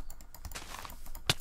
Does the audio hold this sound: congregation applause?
no